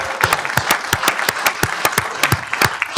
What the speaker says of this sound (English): a state championship 6A Division I deserves a bigger round of applause than that.